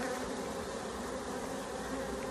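Honeybee swarm with drones in the rain, a dense continuous buzzing hum of many bees, steady and close throughout with no voices.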